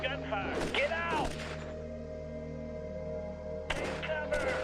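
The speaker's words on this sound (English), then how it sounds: "Yes, sir, we're definitely taking gunfire." Bursts of gunfire ring out in the strategy game Shadow Empire, with sharp volleys at the start and again near the end, a quieter stretch in between, and shouted voice lines mixed in.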